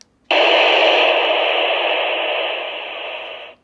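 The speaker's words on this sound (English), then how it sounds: "You can click the Moni right here, M-O-N-I. That'll give you the sound that opens up the squelch so you can adjust the volume" Radioddity GA-2S walkie-talkie with its squelch opened by the Moni button, releasing a loud steady burst of hissing static that runs for about three seconds and tapers slightly before stopping, with no one talking.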